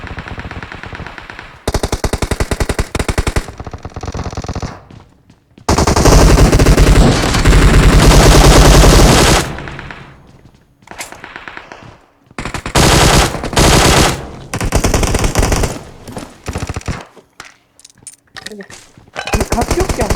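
Automatic rifle fire in the mobile battle-royale game PUBG Mobile rattles out in loud repeated bursts, some long and sustained, others short and clipped, with players talking between volleys.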